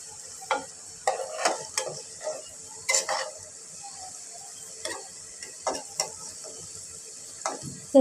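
Soft continuous sizzle of pumpkin-seed fritters frying in oil, punctuated by irregular scraping and clinking of a spatula against the pan as they are flipped, nearby and fairly quiet.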